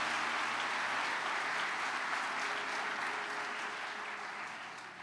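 A church congregation applauds during a sermon. The clapping is dense and even across the whole stretch and tapers off slightly toward the close.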